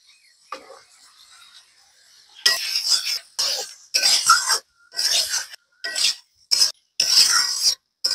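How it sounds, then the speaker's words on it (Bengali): Pointed gourd pieces go into a pan of fried spices and oil, followed by bursts of loud sizzling and stirring scrapes in uneven spurts with short gaps, close up and without talk. "এখন আমি পটলগুলো দিয়ে দেব।"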